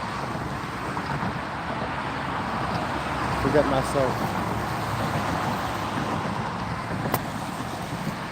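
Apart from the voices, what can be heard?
car traffic noise near hiking spot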